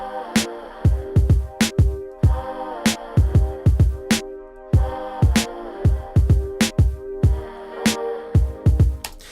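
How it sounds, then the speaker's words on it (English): A boom bap beat: a looped melodic sample with punchy kick and snare hits in a steady swung pattern, loud and upfront, with no other voices. "we added a kick and a snare in a very boom bap pattern"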